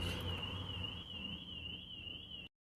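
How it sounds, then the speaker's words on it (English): A nearby car alarm sounds as a steady, piercing high tone that wavers slightly, holds at an even level for a couple of seconds and then cuts off abruptly. "the car behind me, I don't know why, but the alarm keeps going off every 5 minutes"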